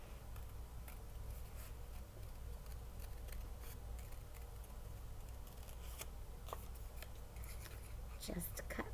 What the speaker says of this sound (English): fold the extra paper down, cut once, and I have 2. So now I'm going to cut it.